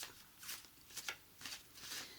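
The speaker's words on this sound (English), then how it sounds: "I'll give it a shuffle and then we'll split the deck" A deck of tarot cards is shuffled close up in a soft, quiet ASMR setting, giving several gentle riffling bursts in an uneven rhythm.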